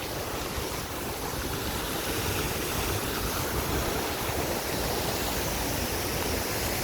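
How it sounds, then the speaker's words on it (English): Water fountain at the World War II Memorial in Washington, DC, a steady, loud, unbroken rush of falling and splashing water with no voices or pauses. "I'll continue around this cool fountain."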